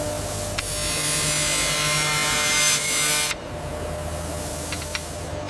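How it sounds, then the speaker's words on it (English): Glass sheet edges ground on a machine in a modern glass factory: a steady, loud abrasive grinding rush that runs continuously, then cuts off sharply partway through, leaving lower machine hum with a few faint ticks. "Grinding removes sharpness."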